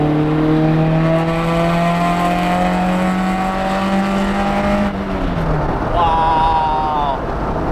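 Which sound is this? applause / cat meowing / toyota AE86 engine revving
toyota AE86 engine revving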